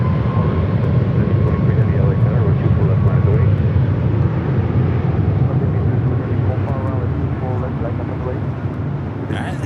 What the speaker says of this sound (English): This arrival is Delta Airlines Flight 800 coming in from Fort Lauderdale on the A321 NEO.